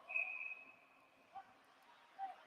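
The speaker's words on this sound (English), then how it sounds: "And we have another whistle." A referee's whistle at an ice hockey game, a single thin shrill blast that trails off, faint and distant, with a few soft rink knocks afterward.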